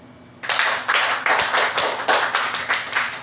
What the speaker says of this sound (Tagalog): Bigyan nyo ng palakpak ang iyong sarili